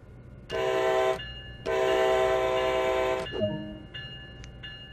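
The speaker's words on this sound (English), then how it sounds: "Use the horn to notify others that this locomotive is about to start moving." A locomotive horn in the Train Sim World NEC New York game gives two loud, harmonically rich blasts, a short one and then a longer one, followed by quieter fading tones.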